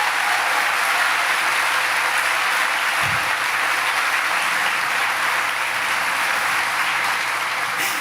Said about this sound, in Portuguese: Então, pode aplaudir a ele, irmão, mas vai com força.